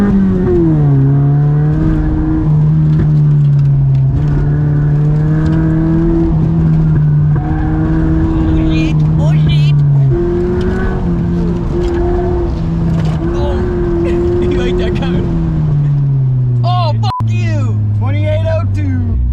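A cheap, previously abandoned Honda Prelude, just back on the road after a head gasket repair, is driven hard in a race. Its engine roars loudly and continuously from close by, with the pitch climbing and dropping as it revs through gears.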